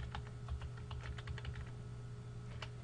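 Computer keyboard keystrokes tapping in quick irregular bursts, fairly faint and close, as fields are entered into an Access database, with no talk.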